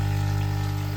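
A koi pond air loop pump runs with a steady low hum and faint watery trickle, a constant close drone through the whole moment.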